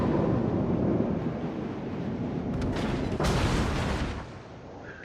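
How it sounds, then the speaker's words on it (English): Naval guns boom at the Bellerophon in a warship game, a heavy roaring blast rumbling over steady wind and sea noise, with a second swell of firing before it fades. "Firing on the Bellerophon."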